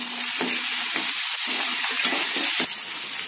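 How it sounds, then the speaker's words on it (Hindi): Peas tipped into a pan of browned onions, the frying hiss broken by a rattling scatter of peas and stirring scrapes, then settling into a steady loud sizzle. "प्याज भुन गया है और अब हम इसमें मटर डालेंगे।"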